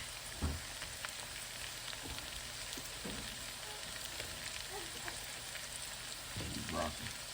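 Mushrooms and corn drop into a hot pan and fry with a steady, quiet hiss, with a few soft clunks and stirring knocks near the start and end.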